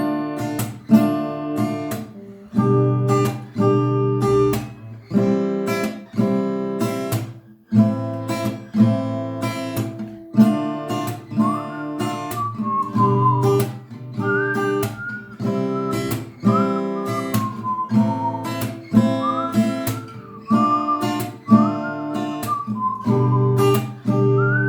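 Strummed acoustic guitar plays a song's chord progression, steady rhythmic chords running continuously and up close, with a higher melodic line weaving over the strumming in the second half.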